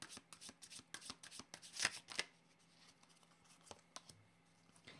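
Cards riffled and shuffled rapidly for a tarot-style card reading, a close series of crisp flutters and snaps, then slower single card flicks and taps.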